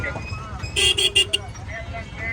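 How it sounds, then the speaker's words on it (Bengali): Several car horns toot in quick succession in a crowded Bangladeshi street, loud and close over a rumble of traffic, with people talking nearby. "গাড়ির হর্ন লোকে চেঁচা মিছিল"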